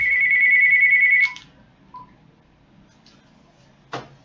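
A telephone ringtone chirps loudly in a steady electronic trill for about a second inside a church during a sermon, then cuts off, followed by a few faint clicks and a brief sharper blip, with no speech.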